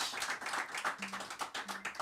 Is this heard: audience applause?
yes